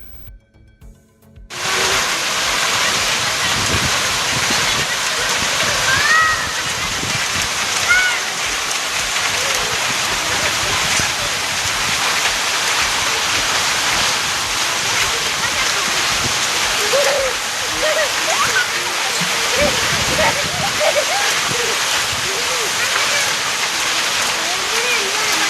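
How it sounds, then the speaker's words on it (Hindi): Steady, dense rainfall in Hyderabad hisses loudly and close, beginning abruptly after a brief quiet moment and continuing evenly throughout with faint scattered spatters. "शहर में सुबह भी बाज़ इलाकों में बारिश हुई।"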